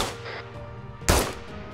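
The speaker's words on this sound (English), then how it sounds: "We are taking fire from the southeast still" A single sharp gunshot cracks out in a military tactical shooter game, brief and fairly close, over a quiet humming background.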